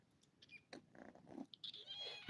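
Young kittens indoors mewing in short, high, thin cries, several scattered calls close by over a quiet room, with no talking.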